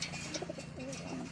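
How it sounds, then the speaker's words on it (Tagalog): Pigeons coo in soft, repeated, throaty calls close by, overlapping one another as birds squabble, over a faint steady background hum. "Ayan, nag-aaway pa sila mga kalapatids."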